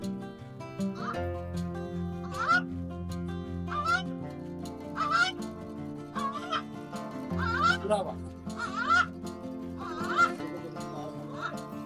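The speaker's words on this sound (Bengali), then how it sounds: "এটা হলো কুরাবাজ পাখি, আর এটা হলো তার ডাক।" A kurabaj bird of prey at a zoo gives repeated sharp, rising calls at irregular intervals, fairly close, over a steady background of people talking.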